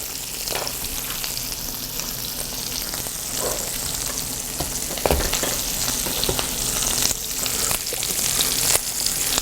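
Chicken breast sits skin-side down over low heat with garlic cloves in the pan, producing a dense, steady frying hiss with scattered spatters and soft stirring knocks throughout.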